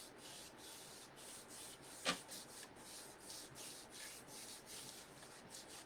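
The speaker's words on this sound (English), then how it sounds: "I'm just taking a wipe over top of the paint that I did." A cloth rubbed over freshly painted wooden board surface, soft repeated scrubbing strokes in a steady rhythm, quiet and close, with one brief sharper scrape partway through.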